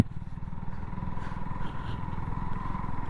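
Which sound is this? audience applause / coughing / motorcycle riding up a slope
motorcycle riding up a slope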